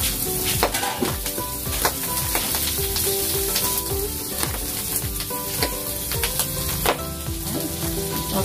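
Garlic and onion frying in a little oil, with a steady, loud, dense sizzle and crackle, punctuated by repeated clinks and scrapes of a utensil stirring in the pan.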